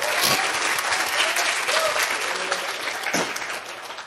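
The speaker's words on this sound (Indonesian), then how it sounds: "sok silakan mau tepuk tangan" Audience applause at a business conference, a dense, steady wash of many hands clapping from a large crowd, sustained at even loudness throughout.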